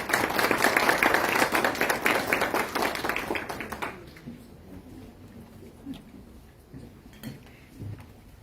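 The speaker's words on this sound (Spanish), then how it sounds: "para quienes pido fuertes aplausos." Audience applause for a speech contest participant at a university oratory competition held in a courthouse, loud and dense clapping for about four seconds, then fading out to sparse claps and quiet room noise.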